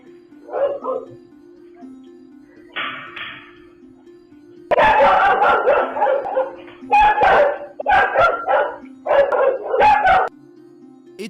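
A dog guarding a home barks at intruders, first in a few short separate barks, then in a loud rapid run of barks and yips near the microphone over a steady low hum.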